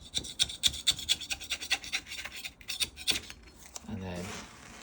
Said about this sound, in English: you can just scrape it off like that